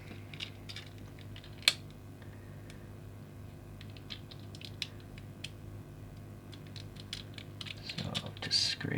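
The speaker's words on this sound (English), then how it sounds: "So just scrape cut with some hobby knife action here." A hobby knife scraping and cutting away a plastic tab on a toon-style Nissan Skyline GT-R R32 model car, small dry scratching ticks and clicks close up, sparse and quiet with a louder snap near the start.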